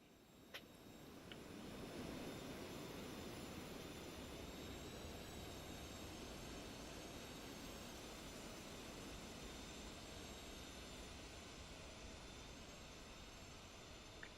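A jet airliner's engines run steadily with auto throttle engaged in a flight simulator game, a continuous broadband roar with a faint high whine, loud and even throughout with no voices.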